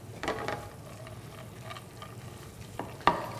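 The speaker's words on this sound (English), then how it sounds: "I'm going to stir it to combine it." Wild rice and dried blueberry stuffing with tarragon and grated Granny Smith apple gets stirred off the heat, a few soft scraping strokes and spoon knocks at close range, ending in a sharper clink.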